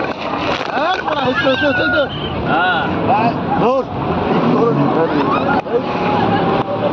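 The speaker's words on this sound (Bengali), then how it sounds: "দেখো পাশে একটা যাচ্ছে বোট" A speedboat engine drones steadily on open water, with a second boat passing alongside, as people talk loudly and excitedly over the motor throughout.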